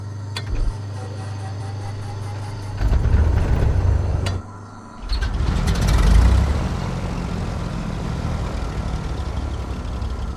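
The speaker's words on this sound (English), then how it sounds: "Firing up engine 1 by pressing the red button right there." A light aircraft's propeller engine is started with a push-button, giving a low mechanical grinding that catches and settles into a steady, close, rumbling idle.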